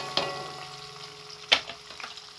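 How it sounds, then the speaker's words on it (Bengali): Chopped onion and tomato fry in hot oil with cumin seeds, giving a soft, close sizzle broken by a couple of sharp crackles or stirring clinks. "আমি ভালো করে নেড়ে চেড়ে একটু ভেজে নেব।"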